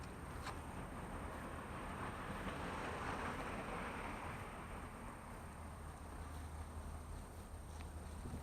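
A train rolling past close by at the Globeville outskirts, a steady broad rumble with rail rattle that holds loud and even throughout with no voices.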